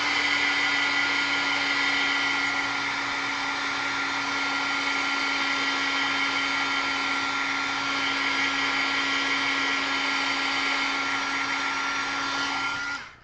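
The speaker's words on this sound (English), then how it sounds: "I'm going to give this a quick heat set." A heat tool blows steadily to set ink on a stamped card, a loud, even whir with a constant hum that runs nearly unbroken for about thirteen seconds before cutting off.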